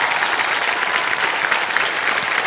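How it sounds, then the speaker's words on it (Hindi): A studio audience on the KBC quiz show applauds loudly and continuously, a thick wall of steady clapping from many hands with no break. "इसलिए जोर से तालियां बजना।"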